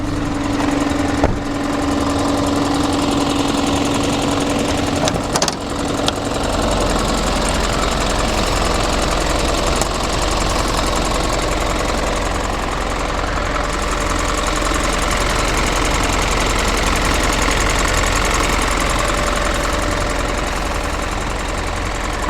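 A 2018 Isuzu NQR cab chassis truck with 192,000 miles runs at a steady idle after a cold start, a continuous low engine rumble with a faint knocking texture, close and constant throughout with no talk.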